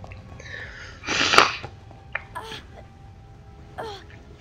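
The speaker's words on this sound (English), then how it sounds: "I'm just trying to hold back a sneeze" A stifled sneeze bursts out once near the middle, a short loud broadband puff with a strained, gasping edge, heard close up with quieter breathy sounds and faint game audio around it.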